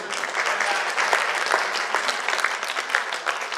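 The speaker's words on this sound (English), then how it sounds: "Give a round of applause to our DXN." An audience at a health seminar breaks into a steady round of applause, dense even clapping from many hands at moderate distance, lasting several seconds without talk.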